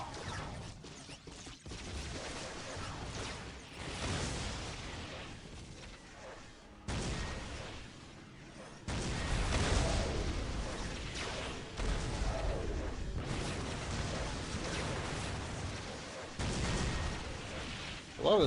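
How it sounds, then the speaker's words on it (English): Missile launchers and artillery fire in the real-time strategy game Warhammer 40K: Dawn of War, a sustained roar of distant booms and explosive rumbles that swells and dips, with heavier bursts midway through and near the end. "There's a lot of fire going on that I can't see because it's all in the dark"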